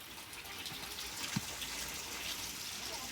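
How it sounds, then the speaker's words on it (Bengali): Steady monsoon rain falls outdoors near a home garden, a continuous soft hiss with no voices over it. "আজকেও দেখুন কি সুন্দর ঝুমঝুম করে বৃষ্টি পড়ছে"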